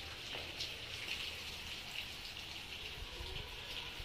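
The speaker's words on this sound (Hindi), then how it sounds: "बहुत तेज बारिश हो रही है।" Heavy rain pours steadily outdoors near a house gate, a dense, continuous hiss of drops striking surfaces with no pauses and no voices.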